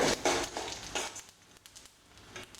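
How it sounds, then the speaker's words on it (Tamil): Urad dal, mustard seeds, garlic and dried red chillies sauté in a pan, giving a soft hissing sizzle with a few stirring scrapes that fade quieter toward the end. "நல்லா உளுந்தம்பருப்பு செவந்து வர வரைக்கும் வதக்கி விடுங்க"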